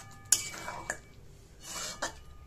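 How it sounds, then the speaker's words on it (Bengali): A spoon stirs doi potol curry with kasuri methi in a pan, giving a few close metallic scrapes and clinks against the pan in short bursts with quiet gaps between them. No one speaks. "দিয়ে দিলাম সামান্য কাসুরি মেথি, দিয়ে ভালো করে একটু নেড়ে চেড়ে দেব।"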